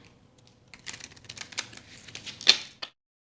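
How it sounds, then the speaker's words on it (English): A deck of tarot cards is shuffled during a love reading, heard as soft, rapid riffling and flicking bursts that build to a sharper snap near the end. The sound is close and fairly quiet, with no voice over it. "while I'm shuffling these cards"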